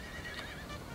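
A horse whinnies in a Napoleon Total War battle between France and Prussia, a short high neigh over a dense din of combat ambience, with no voices.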